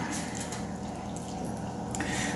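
One and a half cups of water pour into chocolate cake batter in a home kitchen, a steady splashing trickle, close and continuous, with a brief sharper splash near the end.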